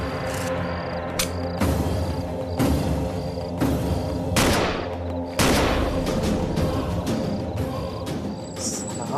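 A burst of loud, close gunshots from a gun, several sharp cracks and thuds fired in quick succession with almost no talking.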